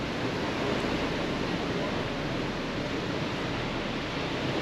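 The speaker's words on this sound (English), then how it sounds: "Spray Falls is the only waterfall along the Pictured Rocks cliffs that runs year-round" Spray Falls, the year-round waterfall on the Pictured Rocks cliffs along Lake Superior in Michigan, heard from a cruise boat: a steady, broad roar of falling water that holds at an even level without pause.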